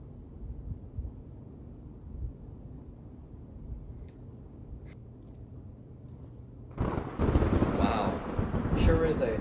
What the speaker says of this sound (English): I can still hear the thunder.